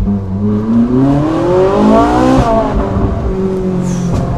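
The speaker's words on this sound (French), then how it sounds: "T'as un moteur Atmo qui chante." A Ferrari 458 Spider's naturally aspirated V8 revs loud and close, its tone climbing steadily to a high wail before snapping back down to a lower, rumbling note.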